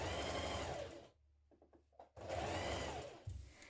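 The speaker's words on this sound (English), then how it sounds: "Stitch along the top of that pocket hem." A sewing machine topstitches a turned-back pocket hem on a spring dress in two loud, close bursts with a brief quiet pause between them.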